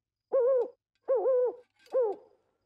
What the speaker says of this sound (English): The owl is making that hooting sound.